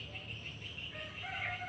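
A recorded swiftlet call lure made to attract young swiftlets plays continuously, with shrill chirping and twittering tones over a low background hum, fairly faint and steady.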